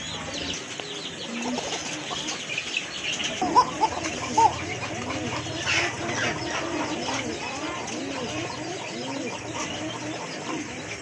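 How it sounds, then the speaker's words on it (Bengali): A flock of pigeons coos together at close range, with overlapping soft, rolling calls repeating continuously, along with some light rustling and scattered clucks. "কবুতরগুলো একসাথে কিন্তু অনেক ডাকে"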